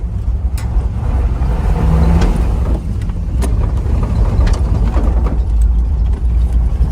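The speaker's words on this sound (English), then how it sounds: "I can still fishtail around in the gravel" An unrestored car fishtails around on gravel, its engine droning loudly and steadily while tires scatter stones in scattered crackling bursts, close and continuous with no voices.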